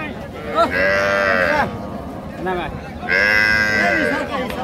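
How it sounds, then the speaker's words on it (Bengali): A local cow at the Raniganj cattle market in Dinajpur lets out two loud, drawn-out moos a couple of seconds apart, close by, over low market background noise. "সুন্দর গাভী একটা, দেশাল গাভী, ষাঁড় বাচ্চা কিন্তু।"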